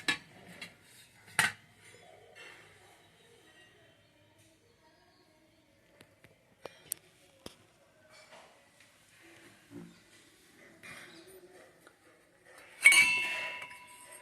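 Antique brass and bronze kitchen vessels and a coffee filter clinking and chinking against each other, with scattered sharp metallic taps and a louder ringing clatter near the end, amid long quiet gaps and faint voices.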